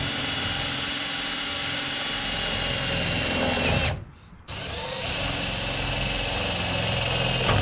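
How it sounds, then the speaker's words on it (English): A power tool drives self-tapping screws into a fiberglass Rocket Bunny spoiler on a Nissan with an RB25DET, whirring steadily and loud for several seconds, cutting out briefly near the middle, then resuming. "Not a fan of self-tapping fiberglass."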